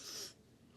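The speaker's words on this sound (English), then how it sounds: "I am trying not to sniffle into the microphone" A single quick sniffle close into a microphone, a short breathy hiss lasting a fraction of a second before fading to quiet room noise, with no talk.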